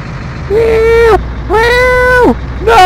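Tires squealing as a truck drifts through a corner in the video game 18 Wheels of Steel Extreme Trucker 2, loud sustained screeches in two long bursts and a third starting, over a low engine drone.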